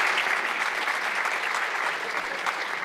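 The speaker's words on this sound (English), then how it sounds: "that's a lot of clapping" A university lecture audience applauds its speakers, with steady, full clapping from many hands sustained throughout at close range.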